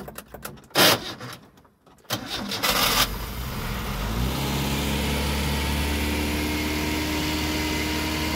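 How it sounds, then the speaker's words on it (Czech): A Škoda Forman car's engine is started with a key: a brief churn of cranking, then it catches and settles into a steady, even idle that continues at close range. "Zapneš klíček, si spustí."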